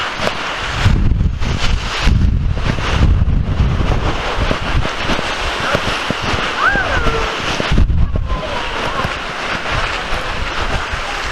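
Strong seaside wind buffets the microphone in rough gusts, with a steady roar of surf and outdoor noise underneath; a brief faint voice-like tone appears midway.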